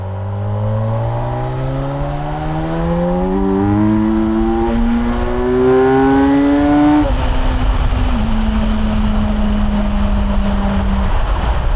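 A Kawasaki Versys 1100 motorcycle engine pulls strongly while riding, its rising tone climbing steadily through the gears, then levelling into a steady high-speed drone with wind noise.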